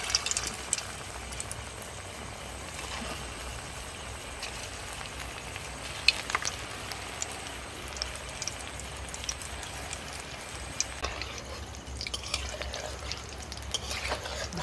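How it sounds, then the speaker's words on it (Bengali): Pieces of leftover roti fry in a pan over a medium flame, giving a constant soft sizzle broken by occasional sharp clicks and scrapes from stirring or turning; no one speaks. "খুব সুন্দর করে কিন্তু ভেজে নিয়েছি, এবার তুলে নেব।"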